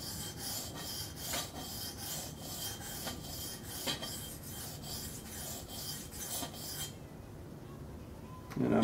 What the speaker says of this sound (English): So it shouldn't take too long to form a burr with this DMT coarse stone